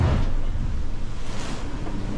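Seawater sweeping across the deck of a racing sailboat at sea, a loud, continuous rush of water and wind buffeting the microphone with a heavy surge at the start and no voices.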